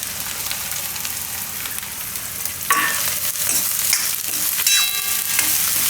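Chopped onion and carrots sizzle steadily in a hot pan while being stirred, with a dense continuous frying hiss and a few louder scraping bursts of the spoon, no voices.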